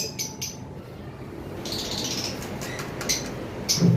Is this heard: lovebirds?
yes